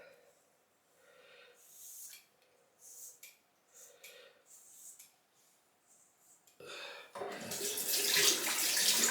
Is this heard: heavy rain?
no